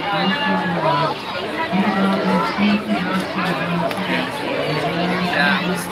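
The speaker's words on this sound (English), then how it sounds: "There are lots of crowds here, people." A dense crowd of people chattering in a busy public place, overlapping voices forming a steady, close hubbub with a few distinct speakers rising above the babble throughout.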